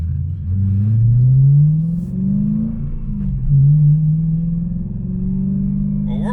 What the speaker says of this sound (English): what we're riding in is a 2008 BMW M3 convertible. It's got a V8, natural aspirated 4-liter.